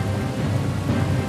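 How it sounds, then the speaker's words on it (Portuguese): A thunderstorm with heavy rain hits Chicago, giving a dense, steady roar of downpour with a low rumbling undertone throughout. "Um temporal atinge Chicago."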